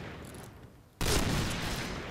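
Gunfire in the video game Point Blank bursts in abruptly after a second of quiet, then continues as a loud, dense volley to the end.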